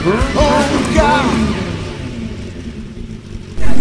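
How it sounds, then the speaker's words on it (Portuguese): A motorcycle fitted with a Roncar sports exhaust revs loudly and close by, its engine note rising and falling through a couple of throttle blips before tailing off, with a fresh burst of revving at the end. "é a linha de escapamentos esportivos da Roncar"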